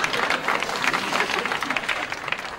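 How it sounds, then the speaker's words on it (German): Lively, close clapping from a gathered audience in a scene from a German TV series, a dense patter of many hands running throughout at moderate loudness. "Applaus für uns alle."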